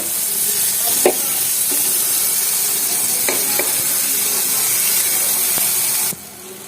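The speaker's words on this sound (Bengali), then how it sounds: "টমেটোটাও একটু ভেজে নেব" Tomatoes fry in hot oil with a loud, continuous sizzle, broken by a few sharp stirring scrapes and clicks, before the sound drops away at the end.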